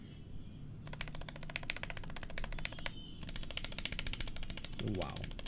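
Typing on a GMMK Pro mechanical keyboard with rattling stabilizers, a steady run of rapid clacking keystrokes with a short pause midway, close and fairly quiet against faint background noise.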